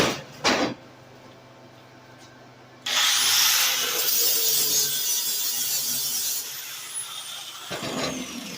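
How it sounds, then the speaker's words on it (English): Angle grinder taking material off a steel tank for a DIY gasifier build, a loud, sustained abrasive whine that kicks in after a quiet few seconds and runs steadily for about five seconds before dropping off. "use your grinder, take some material off to get it straight"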